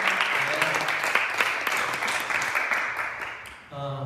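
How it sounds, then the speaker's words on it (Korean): A church congregation at a Sunday service applauds in thanks for the worship leader and band, a sustained wash of clapping at moderate level that tapers off near the end as the sound changes. "우리 감사의 박수 부탁드리겠습니다"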